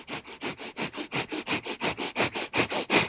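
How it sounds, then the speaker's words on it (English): Fast diaphragmatic breathing in and out through the nose, a steady run of about fifteen airy, even breaths alternating inhale and exhale, close and clear with no talking. "it's breathing in and out through the nose fairly rapidly for a period of time"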